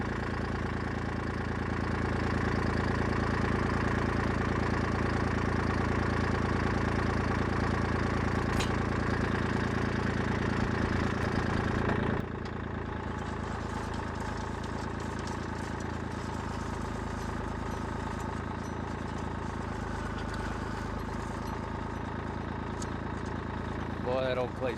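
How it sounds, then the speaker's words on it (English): A Kubota L2501 tractor runs steadily at a loud, constant engine drone while drilling a hole in damp clay, the pitch dropping and quieting halfway through as the load changes. "So we're going to take and drill us a hole real quick."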